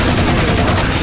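Sustained turret gunfire from Halo 4 Spartan Ops, a loud, dense, continuous burst of rapid shots filling the moment with no pause.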